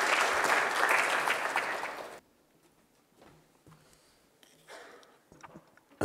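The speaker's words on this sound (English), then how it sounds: "Big round of applause" Applause for a conference chairman at an infrastructure investment event, a loud burst of clapping for about two seconds that cuts off abruptly, followed by near quiet with faint shuffling and brief soft noises.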